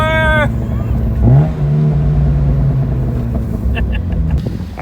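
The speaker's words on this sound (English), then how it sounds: "we're gonna see if we can show you guys what the burble sounds like" Loud low exhaust rumble from a Mazda Miata with a crackle tune, with a rising pitch sweep partway through and a few short crackles toward the end.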